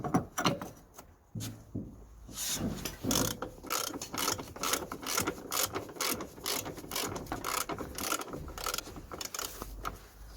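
A socket ratchet clicks in quick, uneven bursts while undoing a strut bolt on a Nissan Note, with a plenum pushed aside for access, mixed with metallic knocks and handling noises during front strut replacement.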